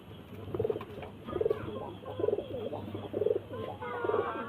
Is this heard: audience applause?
no